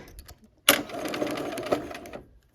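A sewing machine stitching a quilt block, a short burst of rapid needle clatter that starts abruptly after a few quiet taps and runs for about a second and a half before stopping, close and fairly loud.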